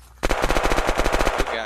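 A single loud automatic burst of about a dozen rapid evenly spaced shots from a gun in the shooter game Kilmore, close and sharp, starting abruptly and cutting off after about a second.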